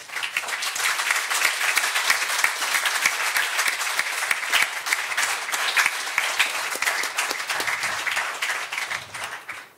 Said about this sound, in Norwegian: det kan vi ta applaus for